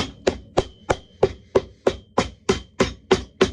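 Hammer driving a part onto an Ariat boot during a rebuild: eleven sharp, evenly spaced strikes about a third of a second apart, close and crisp, with no talking.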